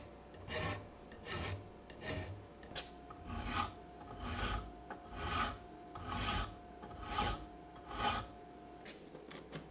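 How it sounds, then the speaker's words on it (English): A hand file rasps against the steel jaw of a vintage monkey wrench during restoration, with about eight slow, even strokes in a steady rhythm, close and fairly quiet, with no talk. "I'm just going to bring the rest of this in with files because this is actually curved a little bit"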